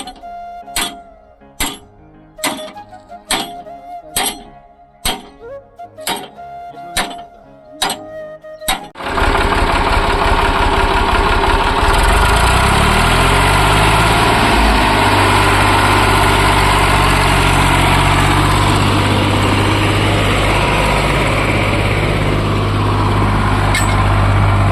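A farm tractor with a starter fault first cranks in a string of about nine short bursts, then fires and settles into a loud, steady close-up idle that continues for over fifteen seconds.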